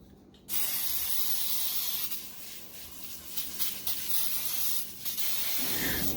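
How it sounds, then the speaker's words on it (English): Baker's Joy baking spray with flour hisses from a can into a Bundt pan in a long steady spray, then several shorter bursts follow, all close with no talk. "baking spray with flour and spray my Bundt pan down."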